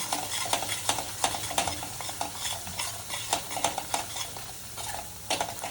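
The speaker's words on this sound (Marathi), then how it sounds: "सगळं व्यवस्थित मिक्स करून घेऊया" Chicken masala fries in oil while a spoon stirs it, with rapid repeated scrapes against the pan over a continuous close sizzle.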